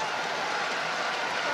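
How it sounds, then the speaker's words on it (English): Fans at a badminton final between Lee Chong Wei and Chen Long at the 2016 Malaysia Open erupt in a dense, sustained roar of cheering and applause filling the whole moment. "No wonder the fans cheer."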